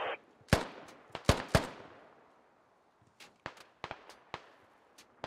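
Scattered gunfire during a firefight in a military shooter game: sharp single shots and short bursts, some close and loud, others fainter and farther off, separated by quiet gaps.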